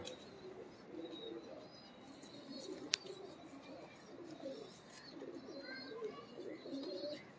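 Broad-chested pigeons coo softly and repeatedly in low, burbling phrases, with a faint chirp or two and one sharp click partway through. The sound is quiet and slightly distant throughout.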